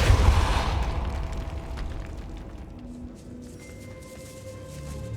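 A Depulso spell is cast in the video game Hogwarts Legacy, giving a brief muffled burst that fades into a quiet hollow rumble with faint tonal hum, with no talk over it.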